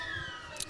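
Australian football ground siren sounding at the end of a quarter in a Ballarat league match between Redan and Lake Wendouree, a sustained wailing tone heard through crowd and commentary ambience over a brief moment.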